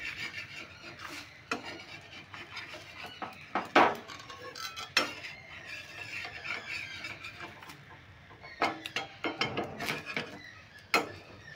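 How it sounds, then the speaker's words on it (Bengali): Metal tongs handle a palm-fruit patishapta pitha in a pan, giving soft scrapes and scattered sharp metallic clicks at irregular intervals, fairly quiet and close, with no talking. "সারাশি দিয়ে একটু ধরে নিচ্ছি।"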